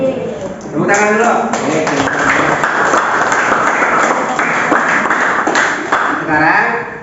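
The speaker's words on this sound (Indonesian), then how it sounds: "Tepuk tangan dulu." Classroom students at a junior high school in Bogor clap together during a lesson, a dense patter of hands that runs for several seconds with a teacher's voice talking over it at the start and end.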